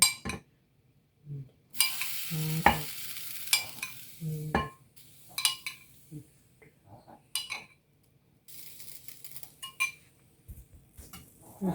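A mango and milk mixture being stirred by hand in a bowl for mango sticky rice puttu, with scraping and clinking strokes in bursts separated by short pauses, fairly close.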